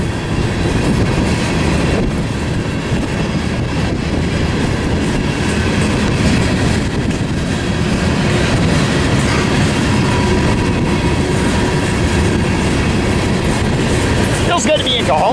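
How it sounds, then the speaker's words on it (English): West Colton to North Platte freight manifest carrying empty coil steel cars rolls past at Tehachapi, a loud, steady, close rumble of wheels and rail clatter that holds for the whole stretch without letup. "our first train on this trip is a West Colton to North Platte manifest"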